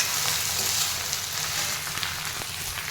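Salted food being stirred in a frying pan: a low, continuous sizzle with faint scrapes and taps of a utensil mixing, moderately quiet and without talk.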